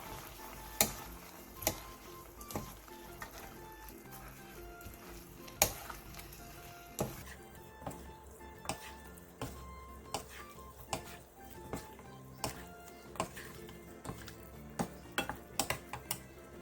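Doenjang, perilla powder, minced garlic and onion stir-fried in a pan, a soft continuous sizzle punctuated by regular sharp taps and scrapes of a utensil against the pan, close and unhurried.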